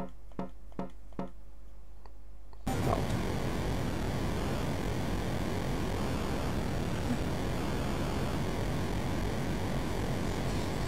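Airplanes in an Atari Flashback video game make a few soft ticks, then a loud, steady electronic engine drone that starts abruptly and holds without letting up.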